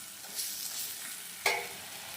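Ginger sizzles and fries in hot oil in a pan for Godavari-style fish curry, a steady hiss with a stirring scrape partway through, close and fairly loud, no voices.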